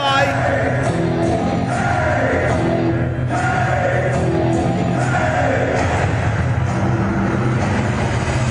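A large crowd at a wrestling show cheers and yells steadily in an arena, a loud, continuous roar with swelling shouts and whoops throughout.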